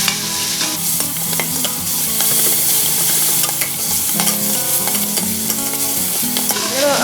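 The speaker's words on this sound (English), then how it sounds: "I'm going to add onion and give it a quick" Finely chopped onion sautéing and stirred in an Instant Pot for chole, a steady loud sizzle with scraping stir strokes, close and continuous with no talking.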